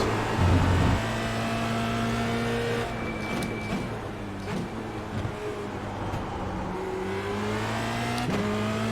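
A Formula Renault 2.0 racing around the track in iRacing: the engine drones continuously, pitch dipping on lifts and rising again through gear changes, with short chirps and a late upshift, steady and close-up throughout.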